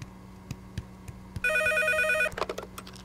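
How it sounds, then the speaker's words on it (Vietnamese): A telephone rings once in a quiet room, a sustained bright electronic trill of about a second, preceded and followed by scattered soft knocks and shuffling. "Điện thoại."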